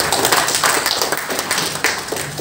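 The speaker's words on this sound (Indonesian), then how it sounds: "Oleh karena itu, aplaus untuk Pak" A crowd applauds a professor, the director of a postgraduate program at STIE Wira Bhakti in Makassar: dense, steady clapping with no pause, close and fairly loud throughout.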